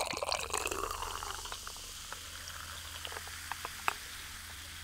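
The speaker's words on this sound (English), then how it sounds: "That is the phenomenon known as fizz." Coca-Cola from a can poured into a cup over ice: a brief splashing pour at the start, then a soft steady fizz with scattered pops and crackles, near and quiet.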